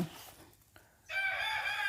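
Laying hens call loudly at close range, a short cluck followed by a sustained crowing cry that fills the last second.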